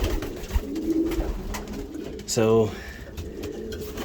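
A racing pigeon hen, daughter of a three-time winner, gives a short, throaty coo at the loft around a season's first race, close and clear over background noise and a brief spoken word.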